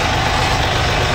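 Loud and close, a Yanmar F210 manual-gear tractor's engine runs smoothly in a brief, even, continuous drone.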